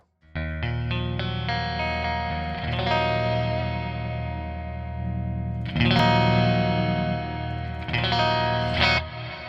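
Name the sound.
electric guitar through Toneforge Jeff Loomis amp plugin, clarity up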